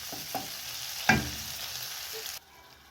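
Goat tripe (matumbo) cooking in a pan gives a steady, soft frying hiss with one brief clink near the middle, then the sound cuts down suddenly near the end. No one speaks.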